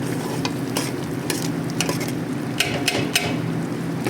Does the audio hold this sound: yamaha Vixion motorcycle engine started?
no